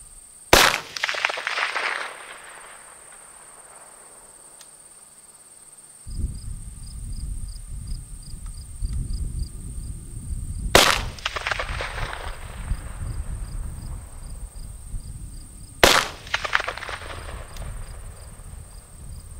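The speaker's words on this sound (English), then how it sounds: "Okay, so I'm going to take my shots." Three sharp gunshots fired from a shooting bench at a target, spaced several seconds apart, each a loud crack with a short decay, over a steady insect-like electronic whine and low background rumble.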